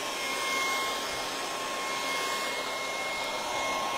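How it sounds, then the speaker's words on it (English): A hairdryer blows over damp sheet music during a Christmas stencil craft, a steady, even motor roar with a thin whine held for the whole stretch and no voices. "I could hit it with a hairdryer and see how that goes."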